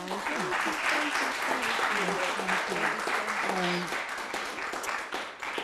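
Audience applause at a Harvard Divinity School event, steady broadband clapping throughout with someone speaking clearly over it.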